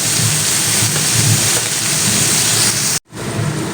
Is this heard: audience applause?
no